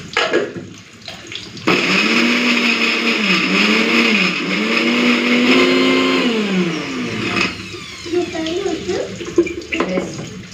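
A blender grinds garlic, ginger and green chilies into a spice paste with a loud, steady whining roar that starts abruptly, wavers in pitch for about six seconds, then cuts off, leaving quieter kitchen clatter.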